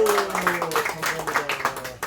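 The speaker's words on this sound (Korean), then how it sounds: "박수!" Rhythmic hand claps from an audience at the end of a book lecture, loud and close, with voices speaking over them.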